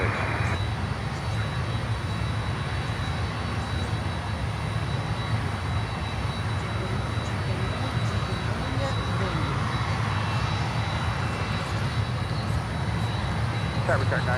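A LATAM Cargo Boeing 767 arrives at Miami airport from Bogota, with a steady distant jet roar rumbling continuously under faint airport ambience and indistinct voices.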